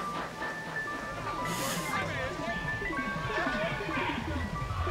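An ice cream truck's chiming jingle plays in the 1985 film After Hours, a tinkling repeating melody heard under busy background sound and voices.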